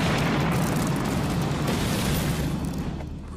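A loud, rumbling artillery shell explosion booms and sustains as a heavy roar, slowly fading toward the end with no voices.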